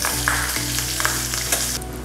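Oil sizzles steadily as curry leaves, green chillies and turmeric go into a hot tempering for koshimbir, a dense continuous frying hiss with a few faint crackles throughout.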